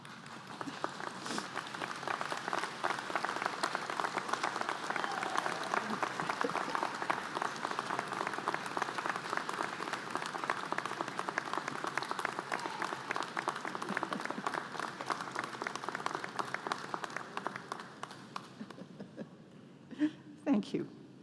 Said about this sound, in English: stand, look around you and behind you, and applaud all who have helped you to get to this point